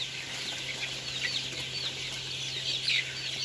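Sonali chickens in a farm shed cluck in a steady soft chorus over a constant low hum, a few sharper calls rising near the end.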